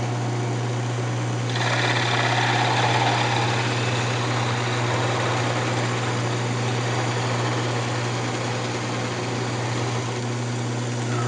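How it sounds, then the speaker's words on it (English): Hacksaw parting a sanded wooden Christmas ornament off a spinning lathe: a steady raspy cutting noise over the lathe's loud, constant motor hum, running for several seconds without talk. "I'm just going to go ahead and use the hacksaw to part it off with."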